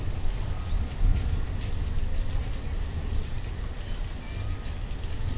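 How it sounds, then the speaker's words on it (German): Steady, dense rain pattering continuously at moderate loudness in the city-building video game Banished, with no talking. "Wieso regnet das denn immer so oft?"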